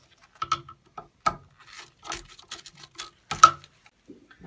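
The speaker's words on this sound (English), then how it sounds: "secure back in place by retightening these screws with the flat tip screwdriver" A flat tip screwdriver retightens the screws on a terminal block plate of an MHL/ML driver unit, giving a series of close, light clicking and scraping taps in irregular bursts, with no talk.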